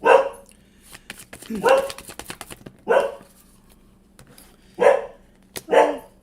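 A dog barks nearby in five separate bursts spaced a second or so apart, each a sharp, loud bark with quiet gaps between.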